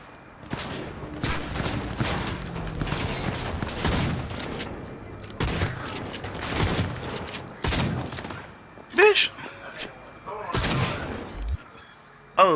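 Rapid bursts of gunfire from the video game Cyberpunk 2077, with sharp repeated volleys and heavy thuds spread across the stretch, loud and close, mixed with game sounds and occasional voices.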